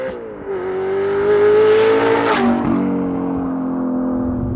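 A tuned Audi R8 with a V8 engine and manual gearbox revs hard from close by, climbing to a loud, rising roar, then dropping back and settling into a rumbling idle.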